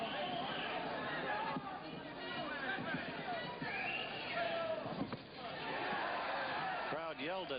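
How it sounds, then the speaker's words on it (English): Crowd at a boxing match between Alexis Arguello and Ruben Castillo roars and yells in a loud, continuous wash of voices that swells and dips throughout. "Crowd yelled at that"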